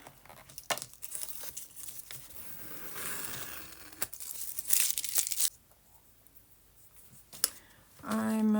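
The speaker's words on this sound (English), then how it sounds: "I'm going to take the tape off before we do the next step" Masking tape peels off watercolor paper in several close, dry tearing strips with crinkles and small clicks between pulls, then falls quiet before a brief tonal sound at the end.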